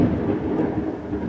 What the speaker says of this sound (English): as you can hear it's raining outside right now, and it is thundering